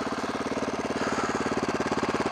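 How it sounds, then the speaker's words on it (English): A Honda CRF 450X dirt bike fitted with a titanium exhaust idles close by, its single-cylinder engine thumping in a steady, rapid, even pulse that holds loud and unbroken from start to finish. "Titanium exhaust is sounding beautiful."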